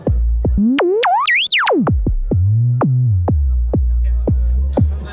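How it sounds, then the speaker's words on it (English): A pure, whistling synth tone from a self-oscillating filter, gliding up and down in pitch with sharp plucked attacks repeating at a steady pace. "what you're hearing here is not an oscillator, it's the filter."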